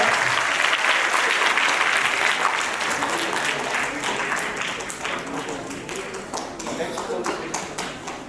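Applause from a school audience at a Vedic speech competition, a dense wash of many hands clapping at moderate level that fades gradually over its length.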